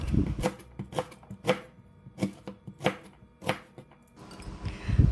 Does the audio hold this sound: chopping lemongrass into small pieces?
yes